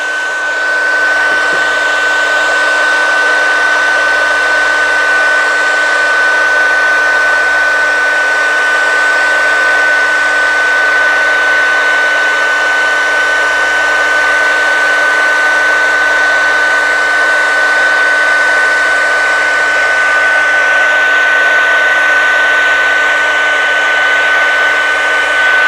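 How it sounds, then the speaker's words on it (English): A heat gun blows steadily for the whole stretch while heat embossing powder is melted on a handmade butterfly frame card, a loud, continuous fan-and-heater whoosh with no talking. "I heat embossed half of this."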